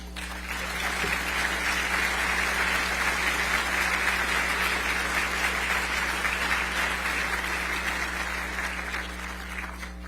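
An audience in Chihuahua gives sustained, even applause to welcome a lecturer before a talk, the clapping steady and full for ten seconds over a low hum of the hall's sound system.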